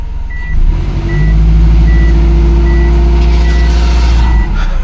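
Engine of a 2004 Subaru Forester held under brake torque, a loud steady low drone that rises and holds for several seconds, with a regular repeating beep over it.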